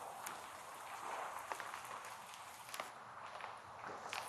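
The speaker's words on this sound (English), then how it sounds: "though there's rain, there's not a lot of evident wind where you are" Steady rain falls in New Orleans during Hurricane Ida, a broad continuous wash of drops and spatter with occasional sharper splashes and little wind, moderately loud and close with no talking.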